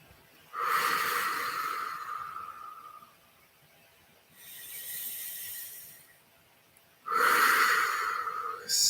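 Slow meditative breathing in a quiet room: three long airy breaths, the first and last louder and close, the middle one softer, with stillness between them.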